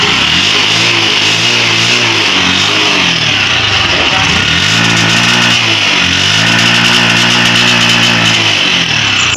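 A motorcycle engine with a misfire revs up and down, loud and close, its uneven pulses rising and falling through several throttle blips across the clip.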